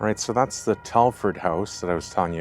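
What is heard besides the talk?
No everyday noise stands out behind the speech.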